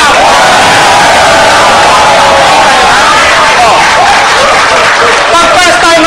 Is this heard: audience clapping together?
yes